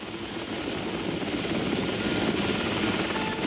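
A rescue helicopter flying low and slow gives off a steady, fairly faint rotor and engine drone that holds evenly throughout, with no voices.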